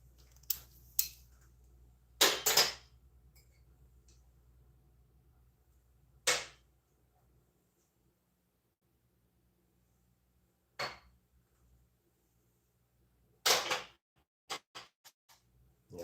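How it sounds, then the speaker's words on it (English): Hand tools used during reassembly of a Chevy Astro AWD with a rebuilt GM 4.3L V6 give sparse metallic clicks and ratchet-like taps, each brief and separated by long quiet gaps. "This little offset wrench should work just fine."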